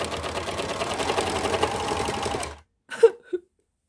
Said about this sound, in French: Alors, je couds et mon fil casse.